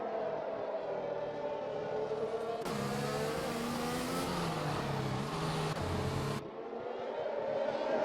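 Racing cars in a video game race at Silverstone, with a McLaren and a Mercedes battling for the lead, their engines whining and revving steadily as the pitch rises and falls through gear changes, loud and continuous.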